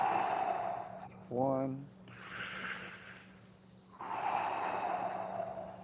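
Deep breathing during a breath fitness exercise, with long loud inhales and slow exhales close to the mic, separated by a short spoken count.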